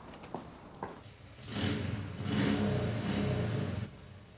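A motorbike engine starts and revs in a few rising surges, moderately loud and fairly close, after a couple of brief knocks, with no talking.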